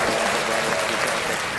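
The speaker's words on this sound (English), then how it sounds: "That deserves a round of applause." Brief burst of applause from a small group at a live planespotting gathering at Nashville International Airport, steady dense clapping throughout with no pause.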